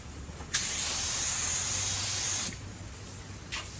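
A 3M Accuspray spray gun shoots paint onto plastic in a steady, loud, close hiss lasting about two seconds, opening and closing with sharp clicks of the trigger, followed by a brief short burst.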